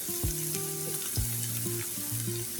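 Sliced onions sizzle steadily in a pan for a qurbani meat recipe, an even frying hiss with a faint tonal backdrop and no talking.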